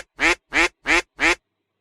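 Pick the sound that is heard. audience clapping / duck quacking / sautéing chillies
duck quacking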